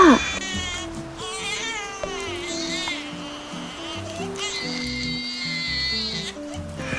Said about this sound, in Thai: เสียงร้องของทารก